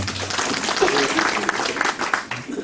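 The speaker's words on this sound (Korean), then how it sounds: "큰 박수로 환영해 주시기 바랍니다" Applause from a crowd fills the hall at a public hearing in Jecheon, South Korea, welcoming the mayor, a steady wash of clapping with some voices mixed in.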